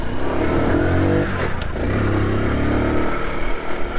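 A 1995 Honda C50 motorcycle pulls away in first gear, its small engine droning loud and close with a rising rev and some mechanical clatter.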